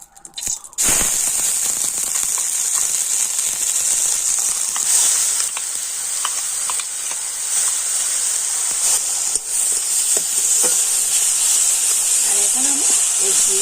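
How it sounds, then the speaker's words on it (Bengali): Carrot paste hits very hot ghee and erupts into a loud, sustained hissing sizzle that starts abruptly and continues steadily at close range, with a voice speaking faintly underneath. "তো ঘি গরম হয়ে গিয়েছে তো ঘিটা কিন্তু খুব ভালো করে গরম করে নিতে হবে আর এবারে আমি পেস্ট করে রাখা গাজরটা দিয়ে দেবো"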